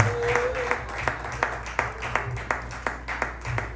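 A worship congregation claps and applauds in a sustained, uneven patter of hand claps, with sharper clap bursts rising at regular intervals over a steady background hum.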